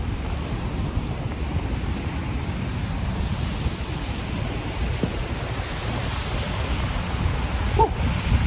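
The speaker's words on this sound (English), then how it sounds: "the snow flurries wind is coming towards my eyes" Steady wind roars during snow flurries on a downtown Toronto walk along Bay Street, a continuous loud rush buffeting the microphone for the whole stretch, with no talk.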